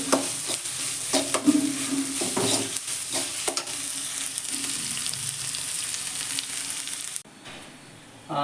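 Chopped onions and a spice paste fry and sizzle in a hot pan as they are stirred, with scraping strokes and clatters over a steady crackle that drops away near the end.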